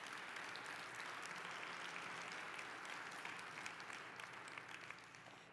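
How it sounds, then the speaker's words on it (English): Attendees at a Main Street summit keynote applaud in a continuous, moderately faint wash of clapping that thins slightly toward the end, heard alone without talk for about five seconds. "give yourself a round of applause."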